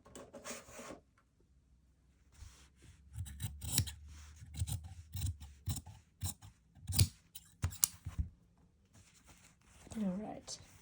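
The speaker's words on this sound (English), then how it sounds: "You just want to cut that seam allowance down." Sharp metal scissors trim a fabric seam allowance down to about an eighth of an inch for a French seam, a close, steady run of crisp snips and rasping cuts with brief pauses between.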